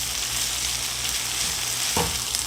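Chopped garlic and onion fry in a pan while being stirred, making a steady, dense sizzle throughout. A brief scrape of the spoon is heard near the end, with no voices.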